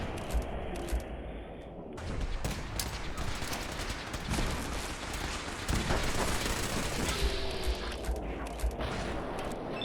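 A missile launcher attack in a Fallout video game, a long dense barrage of crackling blasts and bursts of fire, fairly faint and distant throughout, with no voices.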